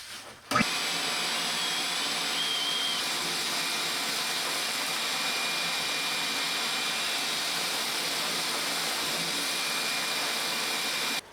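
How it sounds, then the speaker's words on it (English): A shop vacuum pulls concrete debris and gravel off a cut slab during a home remodel, a steady loud broadband roar that kicks in after a brief pause and holds without letting up. "then I vacuum all this crap up"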